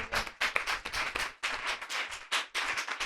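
A church congregation clapping hands during a Sunday service, a quick run of rhythmic claps in short bursts.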